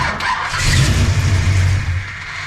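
A 1957 Chevy engine runs after an ignition timing adjustment, a steady loud low rumble that swells slightly mid-clip and settles, with no talk over it.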